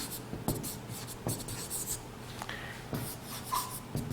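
Chalk or marker scratches across a classroom board in short, separate strokes with small pauses between them. The sound is faint and close, with no talking.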